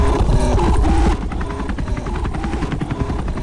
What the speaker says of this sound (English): Helicopter with the good Santa.